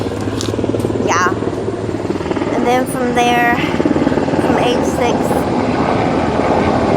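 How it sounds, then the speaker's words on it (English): An Army helicopter passes overhead, and its steady, loud rotor chop fills the whole stretch without a break. A person talks over the noise throughout. "There's an Army helicopter above us. Sorry about the noise."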